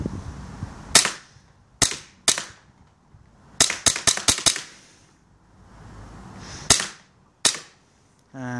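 A Western Arms Beretta M84fs Cheetah airsoft pistol fires a string of sharp, close, loud cracks, some spaced out and others in quick clusters, with quiet gaps between and no talking.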